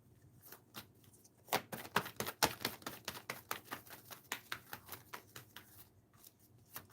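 Tarot cards are shuffled in quick, soft riffling patters, a rapid run of light clicks up close at low volume.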